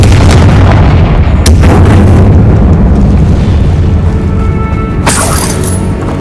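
Confringo fire spell from Hogwarts Legacy detonating with a loud, sustained booming rumble, punctuated by sharper blasts near the start and toward the end.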